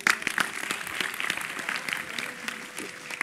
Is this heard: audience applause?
yes